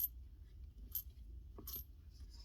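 Small coins clink together in a few brief, bright metallic jingles scattered over a low steady background rumble, close by and light.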